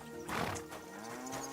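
A horse whinnies briefly and fairly softly in Kingdom Come: Deliverance II, a short neigh with a faint clatter around it, heard alone without talk.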